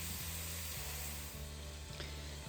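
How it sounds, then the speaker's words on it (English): A pound of lean ground beef browns in a pan, a faint steady sizzle with a low rhythmic hum pulsing underneath and a brief scrape near the end, quiet and close, no voices. "I break up the ground beef and I brown it."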